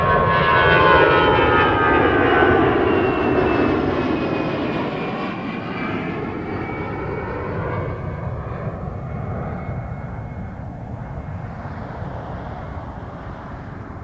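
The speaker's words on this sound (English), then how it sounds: "777-300ER to Tokyo, Haneda" A Boeing 777-300ER jet airliner bound for Tokyo Haneda takes off from Toronto Pearson, its engines roaring loudly at first, then fading steadily as it climbs away, with no voices.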